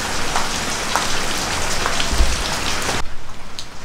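Steady rain beating on a surface, a dense, loud hiss of drops close by that cuts off sharply near the end, leaving a quieter patter with a few low thuds.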